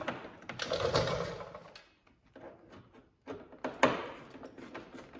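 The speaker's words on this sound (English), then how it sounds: "you can go ahead and tighten these screws here." A T20 screw is tightened on the fender flare of a Can-Am Defender side-by-side, giving close, quiet mechanical clicks and a short whirring run of a driver, with sparse knocks and pauses between them.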